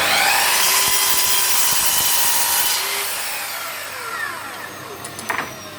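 A Festool Kapex miter saw slices through melamine board without a scribe cut, a loud, close, high whining cut that sustains, then fades as the blade spins down, with a few small knocks at the end.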